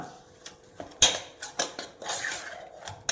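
Mango pickle being mixed with asafoetida in a bowl, a spoon scraping and clinking against the dish in several short, close strokes with no talking.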